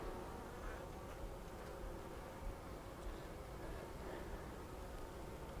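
Honey bees hum steadily around an open Flow Hive during a brood frame inspection, a dense, even insect drone that stays constant throughout, fairly quiet and close with no talk over it.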